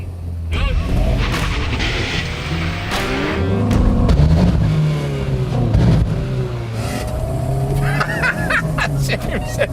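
Toyota 86 and VW Golf engines rev hard as the cars launch side by side in a drag race, a loud continuous roar with rising and falling gear pitches, with muffled voices faintly under it.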